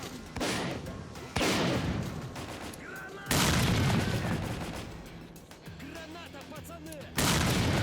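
Grenade blasts and bursts of gunfire in the shooter game STALKER: Call of Pripyat, several loud booming explosions with decaying rumbles and scattered shots, someone talking faintly in between.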